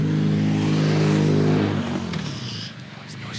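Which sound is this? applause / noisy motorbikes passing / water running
noisy motorbikes passing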